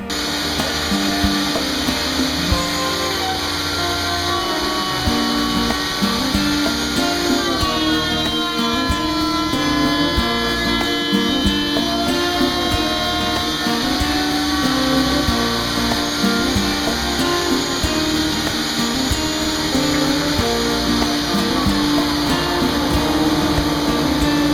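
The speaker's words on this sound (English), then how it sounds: "Now we need to put a bigger router bit in so we can create a countersink for the bolt head." A router fitted with a larger bit cuts a countersink for a bolt head into a wooden jig, giving a loud, steady high-pitched whine that holds for the whole stretch, with slight shifts in pitch as the bit bites into the wood.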